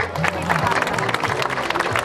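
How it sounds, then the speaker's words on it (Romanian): An audience applauds at a village celebration in Lipănești, Prahova, with dense clapping and crowd murmur, fairly loud and continuous, voices mixed in. "Haideți să-i aplaudăm."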